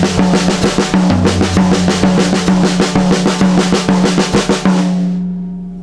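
Fast accented triplets moving between toms and snare drum, a steady run of close, loud strokes with punchy accents lasting about five seconds before the final hit rings out and fades.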